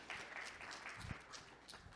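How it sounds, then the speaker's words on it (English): Conference audience at a 2019 public sector summit claps after the first day's wrap-up, a faint, steady wash of applause heard at a distance. "let's clap it"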